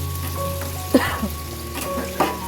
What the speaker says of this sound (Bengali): একটুখানি আলু ভেজে নিচ্ছি